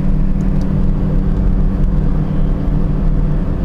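A 13-year-old Chevrolet Corsa Classic 1.0 VHC running on ethanol with an intake filter and sport exhaust pulls under acceleration, giving a loud, steady engine drone with a deep exhaust note throughout.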